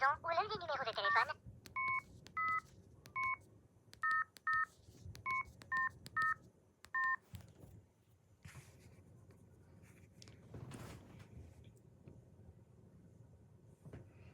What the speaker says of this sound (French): veuillez entrer les 10 chiffres de votre numéro de téléphone à la maison